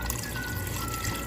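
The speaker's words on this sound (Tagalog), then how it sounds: "So, lagyan muna po natin ng tubig yan." Water pours steadily onto beef cubes mixed with bones in a cooking pot, a brief continuous splashing stream heard up close with no talking.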